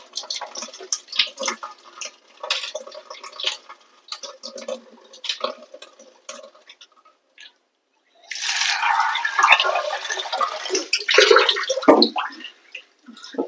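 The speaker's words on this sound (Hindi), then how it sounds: "अच्छे से मूंग धो लूंगी ना" Tap water running while moong dal is washed: intermittent splashing and trickling in short bursts, then a louder steady gush of running water toward the end.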